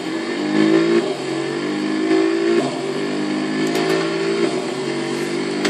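An SPR4 electric car accelerating hard in BeamNG.drive, a loud continuous whining drive tone that climbs and dips through repeated surges over several seconds, with no voices.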